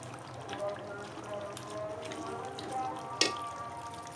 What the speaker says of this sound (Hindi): अब हम इसमें हल्का सा चम्मच चला सकते हैं